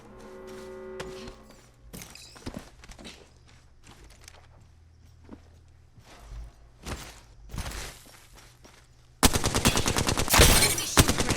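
Video game gunfire from enemies in Apex Legends: scattered sharp shots and quick bursts, some near and some distant, mixed with footsteps, building to a dense, loud stretch of rapid automatic fire near the end.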